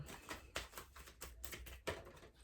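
Tarot cards riffle and flutter in quick irregular bursts, close and soft, with no talking.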